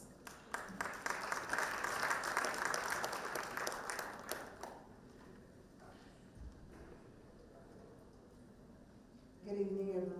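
Scattered audience applause at a policy board meeting of ministers, a thin patter of hands lasting about four seconds before dying away into a quiet room; a voice begins speaking near the end.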